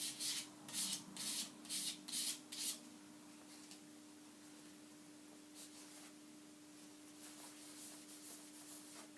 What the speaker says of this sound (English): It's a good idea to rub in one direction so that all the marks you make are in one